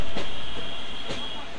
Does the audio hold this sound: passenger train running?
yes